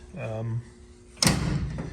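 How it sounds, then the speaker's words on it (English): A 1968 Pontiac Firebird pro street drag car's door shuts with a solid thud after a brief tone, followed by a short rattle as it settles. "doors close nice, feel nice and solid"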